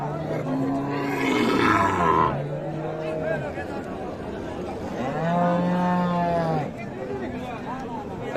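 Cattle, meat bulls and cows, at the Raniganj haat livestock market in Dinajpur, give two long, deep, drawn-out lowing calls, near and loud, over busy crowd chatter and market noise.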